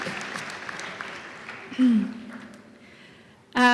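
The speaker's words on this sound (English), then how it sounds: "Can we give one more round of applause for all of our speakers, our students?" A graduation audience applauds in a steady wash of clapping behind the talk, and a speaker's voice cuts in over it twice.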